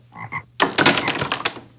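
Frogs croak loudly in a rapid, rattling run of clicks after two short softer calls, close and with no voices.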